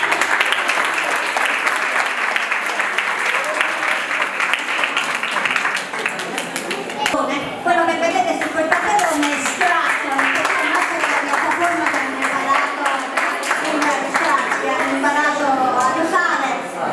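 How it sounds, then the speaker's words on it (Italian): An audience at a school event in Salerno applauds loudly and continuously, a dense wash of many hands clapping throughout, with some voices mixed in toward the latter half. "So che stanno nascosti nel pubblico e gli facciamo un applauso."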